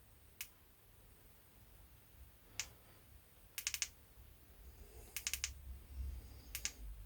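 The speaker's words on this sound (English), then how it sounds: "Long click, short click, long to change mode." Switch of a Convoy 4X18A flashlight being clicked: single sharp clicks, then quick bursts of two or three clicks, crisp and close over faint background hiss, with no talking.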